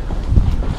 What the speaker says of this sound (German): Windig ist das hier oben.